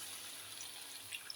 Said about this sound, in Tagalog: Ngayon, wala akong bino, kaya naman itong tubig na ang ilalagay ko.